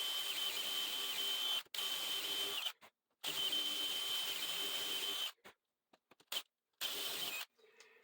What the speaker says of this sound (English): there's always a empty space when the drill bit breaks through